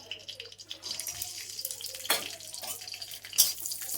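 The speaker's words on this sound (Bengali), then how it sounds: "চালটাকে ভালো করে ধুয়ে নেবো" Rice being washed under a running kitchen tap, with a steady close stream of water splashing and trickling continuously, a few brief louder splashes mixed in.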